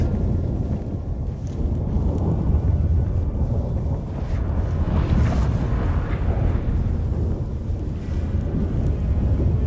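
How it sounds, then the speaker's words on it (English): Stormy weather rumbles through a scene in the video game The Witcher 3, a loud continuous low roar of wind and turbulence that swells and surges for several seconds with no speech. "That a storm?"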